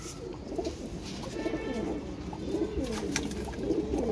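Pigeons coo softly and repeatedly while being handled in a loft, with light rustling and faint wing flutters mixed in at moderate distance, no talk.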